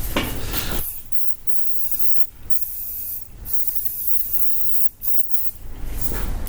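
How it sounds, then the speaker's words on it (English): Hairspray misted onto hair after a haircut, a loud continuous aerosol hiss broken by several short pauses between bursts, close to the ear, with no one talking. "I love the smell of hairspray"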